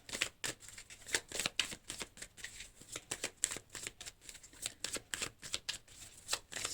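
Tarot cards are shuffled by hand in a quick, steady run of soft riffling flicks and slaps, close-up and quiet, with no talking.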